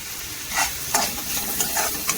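Red chilli masala goes into a hot pan for homemade methi bhaji and gets stirred, with a continuous sizzle broken by several sharp spatula scrapes and taps close by, no voices.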